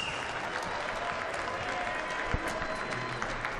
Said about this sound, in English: how about a big round of applause for these two valiant warriors?